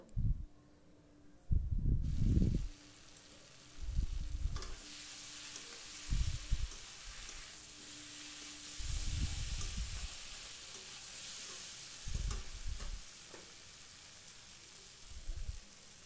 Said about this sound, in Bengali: এবারে ভাজা মাথাটা দিয়ে দিলাম, মাছের মাথাগুলো, এগুলো একটু ভেঙে দেব